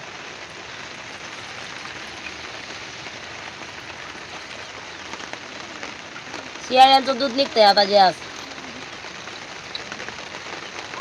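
Steady rain falls throughout in a rural herder's camp on an overcast morning, a soft continuous hiss, with a brief burst of talking in the middle.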